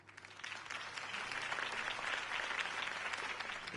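Crowd applause in the Telltale Batman video game after Harvey Dent's campaign speech, a steady dense wash of clapping that holds at an even level for several seconds.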